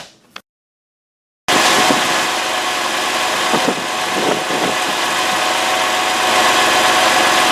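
A brief noise, a moment of silence, then a 2004 Porsche Boxster with its muffler removed idles loudly and roughly with an open, rumbling, slightly knocking throb.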